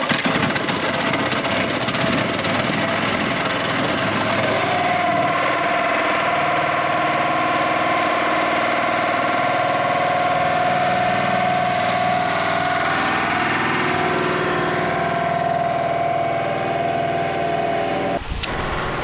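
A boat engine in Vaikom, Kerala runs steadily and loudly throughout, a continuous mid-pitched drone with a sustained hum and rattling vibration, no talk, cutting off abruptly near the end.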